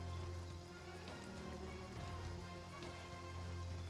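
Rain in the Gray Zone shooter game falls as a steady, dense patter over a low constant hum, quiet and unchanging, with no speech.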